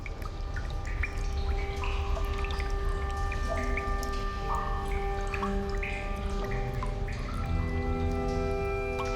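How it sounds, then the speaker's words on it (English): Mountain water trickles and drips through salt-bearing stone, a steady wet patter of scattered drops over a sustained tonal hum, continuous and moderately close. "The mountain water itself does the actual extraction, washing the salt out of the stone."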